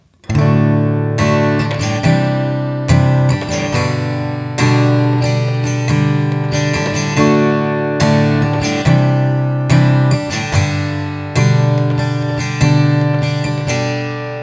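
An acoustic guitar is strummed in a steady down-down-up pattern at a lively pace, ringing chords changing every couple of seconds, loud and close with no voice.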